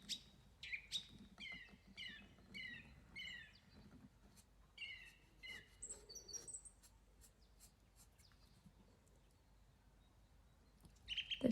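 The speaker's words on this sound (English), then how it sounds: "I can hear the birds outside my window now as I draw" Small songbirds chirp and trill outside a window in a quiet room, with bursts of bright, rapid song in the first half, a lull, then a louder flurry near the end.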